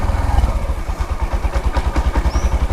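Honda Monkey motorcycle with a manual clutch running up close, a loud, rapid, pulsing engine beat that dips briefly during a gear change and then picks back up.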